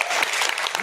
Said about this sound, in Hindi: एक बार जोर जोर में ताली बजाओ ताकि सुस्ती दूर हो